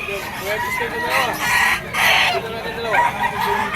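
A young stag rooster crows repeatedly at a busy pet market, loud and close, with a few clucks and other birds in the background while people talk.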